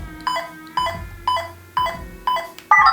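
A series of electronic beeps from an RGB lightsaber toy, five evenly spaced tones followed by a slightly different final tone, close and clear with no talking.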